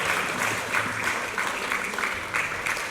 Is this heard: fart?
no